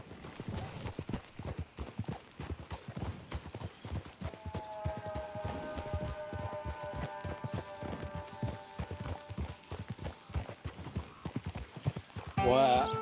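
Steady, rhythmic clip-clop of horse hooves at a walking pace in Red Dead Redemption 2, close and continuous, with a faint tonal hum joining partway through.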